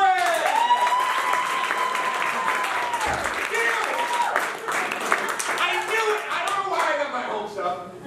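An audience applauds and cheers for a special guest at a live show, a dense wash of clapping mixed with shouts and whoops that carries on throughout.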